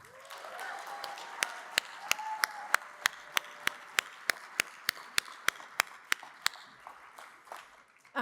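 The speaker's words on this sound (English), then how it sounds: "one more round of applause for Christy, Signa, and Ozzy" An audience at a chief planners event claps steadily in applause, a run of sharp, evenly spaced claps that thins toward the end.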